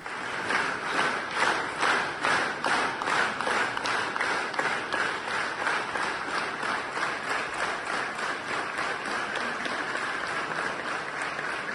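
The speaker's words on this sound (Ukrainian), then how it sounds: "Зустрів гучні овації" Loud applause fills a cathedral as a new Greek Catholic bishop takes his throne. Many hands clap in a dense, slightly rhythmic wave that runs on without pause.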